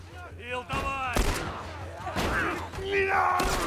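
Gunfire in The Last of Us with bursts of shots and thuds over continuous action noise, someone talking excitedly throughout.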